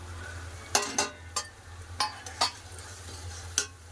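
Ground coriander, chili, turmeric and cumin with salt are stir-fried in a pan, with a spatula scraping and tapping in irregular strokes over a low steady hum and a faint sizzle.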